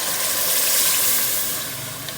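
Beef stock poured into a pot of browned meat for palau, giving a steady close hiss of liquid hitting the hot pan that eases slightly toward the end, with no talk.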